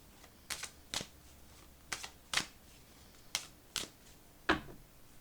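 A deck of oracle cards being shuffled and cut, heard as about eight short, crisp riffling snaps spaced unevenly over a few seconds, close and fairly quiet against a faint background hiss.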